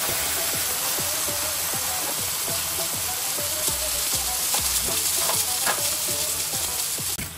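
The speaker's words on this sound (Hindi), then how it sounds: "इतना खतरनाक तड़का इसके ऊपर" Loud, steady sizzling and crackling of browned onions in hot ghee for tempering, with a rapid rhythmic pattern throughout and no talking.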